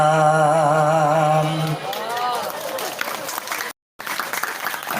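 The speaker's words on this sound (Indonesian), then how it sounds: "itu tepuk tangan kan percis di TK" Applause from a religious gathering audience at a humorous Islamic sermon, a broadband patter rising after a sustained sung note fades, with voices and chatter mixed in and a brief dropout near the end.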